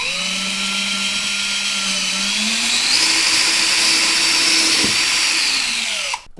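A power drill bores into a wooden wall stud while a TV mount is hung. Its motor whines loud and close, rising in pitch partway through and holding steady before it cuts off abruptly; no one speaks.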